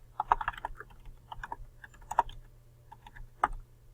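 Quiet, close typing on a computer keyboard: scattered light key clicks in irregular short bursts with brief pauses, over a low steady background hum.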